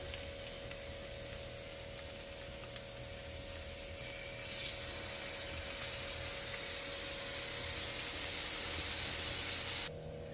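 Plant-based ground pork from Omni Pork fries in olive oil in a pan, giving a steady, close, even sizzle with no talking that cuts off abruptly near the end.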